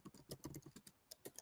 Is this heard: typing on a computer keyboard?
yes